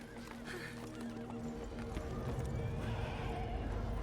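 Horses from a fantasy TV show scene, heard with loud neighing and whinnying over a steady bed of clip-clopping hooves and ambient scene noise.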